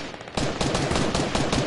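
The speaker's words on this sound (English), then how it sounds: "I can definitely hear gunfire at close quarters." Close-quarters gunfire in a video game, a dense burst of rapid automatic shots, loud and near, running continuously after a brief quieter start.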